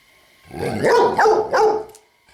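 A dog gives a short run of three or four close, loud barks that rise and fall in pitch, a little whiny, then goes quiet.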